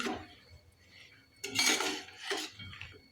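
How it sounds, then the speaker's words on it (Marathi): Ridge gourd curry being stirred in a pot after salt goes in, with a spoon scraping and clinking against the metal in a few short bursts, close and moderately loud. "मीठ टाकलं की एकदा हलवून घ्यायचं आहे"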